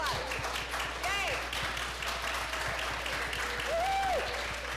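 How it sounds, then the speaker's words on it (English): A live audience at an evening science event honoring women and non-binary people claps and cheers steadily throughout, with a few whoops and voices rising above the sustained applause. "Can we applaud for you? Stand up. Yep, big applause."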